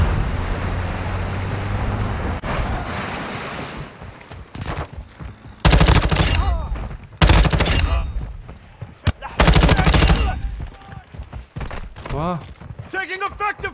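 Bursts of automatic gunfire from bots in the video game Call of Duty DMZ, with loud rapid volleys separated by short pauses; a voice talks at the start.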